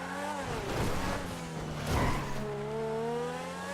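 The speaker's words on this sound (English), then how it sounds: "the sound of that car is just really, really sweet" Grotti X80 Proto supercar in GTA 5 revving at speed near a highway, its engine note sweeping up and down through two loud surges with rising and falling harmonic whine, tire noise underneath, no talking.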